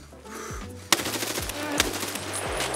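Gunfire in Escape from Tarkov on the Ground Zero map: a loud crack, then a dense run of rapid, irregular shots with sharp bursts, set over low repeating mechanical thumps.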